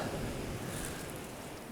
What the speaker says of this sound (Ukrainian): Якраз хвиля сьогодні така нормальна.